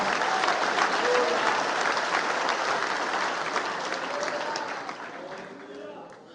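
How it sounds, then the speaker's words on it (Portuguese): Congregation applauding during a church sermon: broad, dense clapping from many people filling the room, steady for several seconds before tapering off, with voices mixed in. "Aplauda o Senhor, meu amor"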